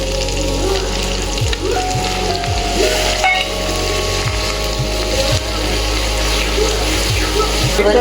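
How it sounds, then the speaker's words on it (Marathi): Masala with crab fat frying in a pan, a loud continuous sizzle close up with occasional scraping stirs and thuds of a spoon, steady throughout. "आता खमंग भाजायचा बघा मसाला"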